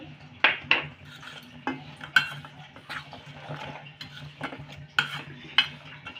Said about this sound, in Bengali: যতক্ষণ না গুড়টা গলছে ততক্ষণ আমি এভাবে নাড়তে থাকবো